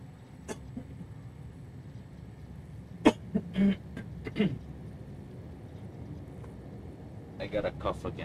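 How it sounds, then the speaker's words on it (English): A few short coughs or throat-clearing bursts around the middle, then more near the end, over a steady low background hum. "gotta cough again."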